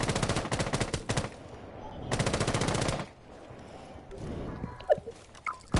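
Video game gunfire in rapid automatic bursts, loud and close, two long volleys separated by quieter game noise and a few scattered shots.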